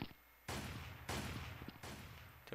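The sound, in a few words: sniper rifle gunshots in a video game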